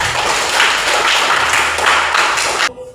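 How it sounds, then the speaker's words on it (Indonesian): Classroom applause during a Catholic religious education teaching session in Merauke, a steady, dense wash of many hands clapping together that holds for nearly three seconds before cutting off abruptly. "Kita tepuk tangan dulu."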